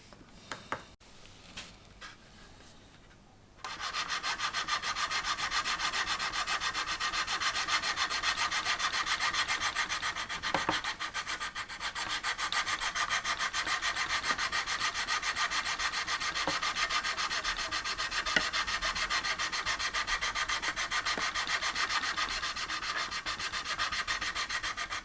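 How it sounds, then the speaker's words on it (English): Sanding the plastic fuselage of an Airfix 1/72 B-17G model kit makes a quiet start, then continuous close, rapid back-and-forth rubbing that carries on steadily with only brief pauses. "So we'll do the sanding first and then put the putty in afterwards"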